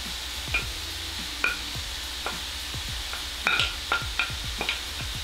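Tofu tumbles into a pan of cooked pork for a Chinese spring roll filling, giving a steady frying sizzle with several clear scrape-and-clatter stirs and knocks against the pan.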